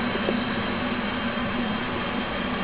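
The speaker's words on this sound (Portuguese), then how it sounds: "Aí o motor pega." An F/A-18C Hornet jet engine spools up during a ramp start in the DCS flight simulator, a steady, dense roar with a constant whine running unbroken throughout.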